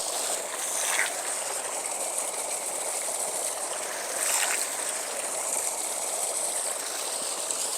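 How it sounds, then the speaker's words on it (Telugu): Water gushing steadily from a farm pump motor outlet in a field near a mango orchard, a continuous rushing flow heard close up with a couple of brief louder surges and no talk. "మోటార్ నీళ్లు ఇక్కడ పొలంలోటి ఇలా మోటార్లు పెట్టి"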